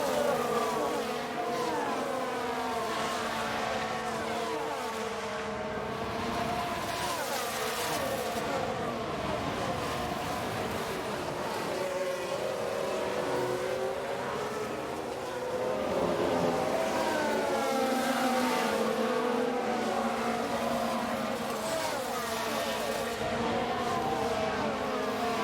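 F1 cars racing at Abu Dhabi in the F1 Manager 2022 game, a steady layered whine of engines with shifting pitch sweeping by continuously, fairly loud and unbroken throughout.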